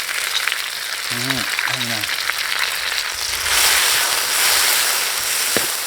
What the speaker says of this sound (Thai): มันกุ้งครับ ใส่ลงไปเลย